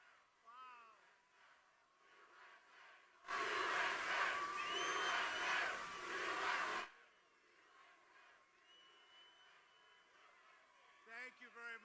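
A large crowd at a political rally in Bullhead, Arizona, bursting into loud cheering and shouting for about three seconds, then dropping back to quieter murmuring with voices before and after.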